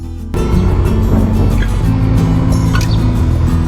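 Steady engine drone of a motorcycle being ridden, starting abruptly and holding a constant loud rumble with wind and road noise.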